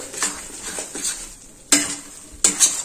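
A spoon stirs cardamom powder and adadiya spice into an adadiya mixture in a pan: soft, close scraping strokes, then two sharp metallic clinks against the pan's rim, with no talk.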